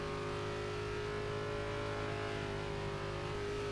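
A race car engine in a racing video game, holding a steady, droning high-rpm tone at speed with little change in pitch, loud and continuous throughout.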